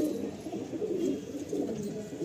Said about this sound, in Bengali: দেখুন এইটা হচ্ছে মেল, খুবই একটা অ্যান্টিক মেল, না অনেক পুরাতন জেনারেশনের পায়রা।